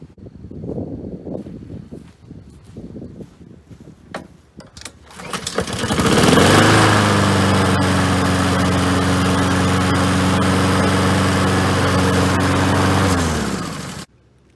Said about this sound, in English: is my Honda GCV 160 Honda self-propelled mower.